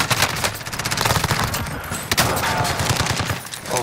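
Rapid gunfire bursts in Call of Duty: Modern Warfare, a dense string of sharp shots with a brief pause partway through, loud and close throughout.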